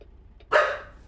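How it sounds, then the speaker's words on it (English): A single sharp dog bark rings out at moderate distance after a brief faint yip, with no one speaking over it. "Oh, dogs are barking."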